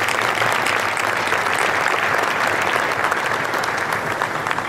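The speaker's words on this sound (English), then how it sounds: "I want to give a round of applause to the mighty sound of Maryland." A crowd at a Maryland Football welcome-home press event for the coach applauds steadily, a dense, even clatter of clapping that continues at full strength throughout with no talk over it.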